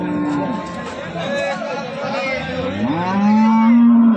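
Cattle at a morning livestock market in Sangola: a cow moos loudly in long, wavering calls, the loudest near the end, while nearby voices and crowd chatter continue underneath.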